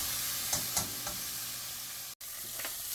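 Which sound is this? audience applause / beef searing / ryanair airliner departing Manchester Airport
beef searing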